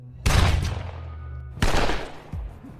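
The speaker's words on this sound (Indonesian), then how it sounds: "Timo terluka akibat baku tembak tersebut" Gunfire in a film shootout: two heavy, booming shots with long rumbling tails about 1.3 seconds apart, loud and close, over a low steady hum.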